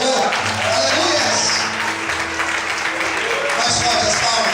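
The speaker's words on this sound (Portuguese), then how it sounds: "Quantos podem aplaudir e exaltar o Senhor?" A church congregation claps in praise, a continuous wash of many hands applauding at even volume throughout, with voices murmuring faintly beneath.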